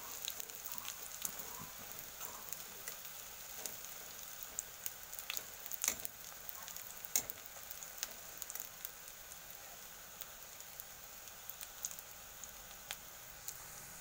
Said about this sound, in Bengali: বড়া ভাজা হচ্ছে